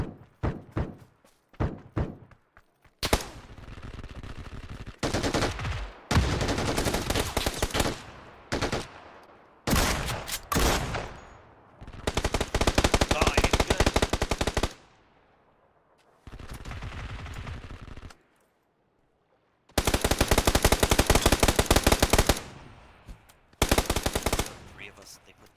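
Gunfire in the video game PUBG on Xbox, loud bursts of rapid automatic fire alternating with single shots and brief silent gaps, close and dominant throughout.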